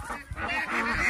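Ducks honk and quack close by in a rural farmyard, a brief dense burst of nasal calls with no talking.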